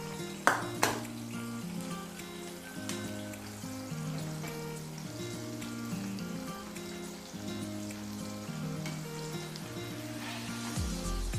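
Slices of ripening banana fry in oil for chips. A soft, crackling sizzle with scattered pops runs throughout over a steady tonal background.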